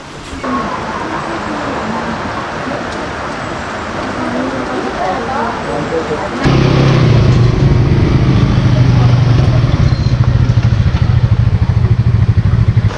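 Steady rain hisses at first at a campsite on the Marilaque highway, then swells sharply halfway into a louder, heavier downpour with a low rumbling roar.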